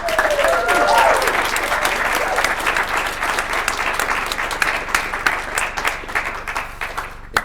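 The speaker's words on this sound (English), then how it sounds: "big round of applause for all of that" A large crowd at a poetry recitation competition final applauds loudly and steadily, a dense wash of clapping that continues throughout, with a brief voice near the start.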